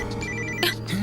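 A phone rings in a Telugu horror thriller film, giving a steady electronic ringtone with sustained tonal lines and a brief bright burst near the end, close and clear.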